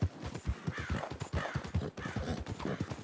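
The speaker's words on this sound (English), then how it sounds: "This horse is still following me." Horse hooves clip-clopping in the video game Red Dead Redemption 2, a quick, steady rhythm of close hoof strikes throughout.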